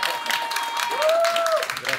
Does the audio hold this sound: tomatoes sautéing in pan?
no